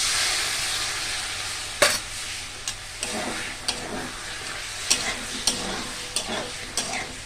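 Spice-rinse water goes into a sizzling, well-fried masala for a potol and soybean curry, a broad steaming hiss broken by a series of sharp spoon clacks and stirring knocks against the pot.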